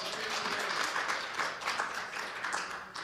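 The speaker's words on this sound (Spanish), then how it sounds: "¿Cuánto dan un aplauso al Señor?" A church congregation applauds in a dense, steady burst of clapping, fairly loud and close, lasting a few seconds without speech.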